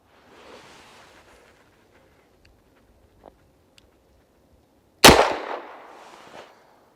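A single sharp gunshot from a Smith & Wesson Model 27-9 revolver on an outdoor range cracks loudly and close, then trails off in a brief echoing decay, following a few quiet seconds.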